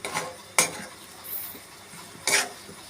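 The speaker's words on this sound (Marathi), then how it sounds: "कोथिंबीर झाली की हलवून घेणार आहोत आपण त्याला" Jhunka bhurji being stirred in a pan: a few sharp scrapes and clinks of a utensil against metal, separated by quiet gaps, close by.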